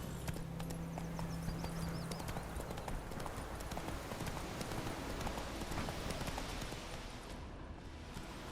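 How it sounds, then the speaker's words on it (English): In The Witcher 3 video game, the horse Roach gallops with rapid, rhythmic hoof clip-clops over a busy background of game ambience, moderately quiet and continuous. "Run, Roach"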